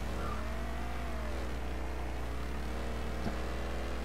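A stolen car driven in the video game Mafia III, its steady mid-pitched engine drone running throughout with a small bump near the end, with no talk over it.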